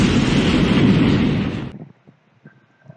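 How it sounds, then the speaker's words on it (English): Rocket ship launch sound effect in a children's English lesson: a loud roaring blast-off rush that fades out abruptly after about a second and a half, leaving near silence. "So, the rocket ship will go."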